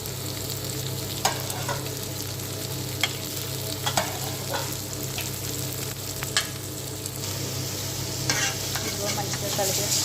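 Chicken with turmeric, ginger-garlic paste and masala stirred in a pot, a steady sizzle under repeated scraping strokes of a spoon, close and fairly loud with no talking.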